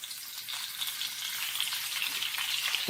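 Shrimp sizzle and fry in hot bacon fat in a pan, giving a steady, dense crackle that runs evenly close up with no talking.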